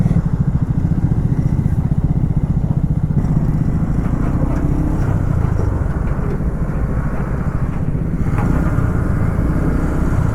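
A motorcycle rides along a village road between Kolkata and Bishnupur, its engine droning steadily and loudly close by throughout, with a continuous low throb and some wind rush.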